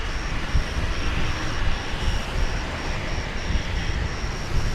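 Qatar Airways airliner arriving at DFW from Doha, a steady broadband engine roar with low rumble holding at an even level throughout, somewhat distant and alone.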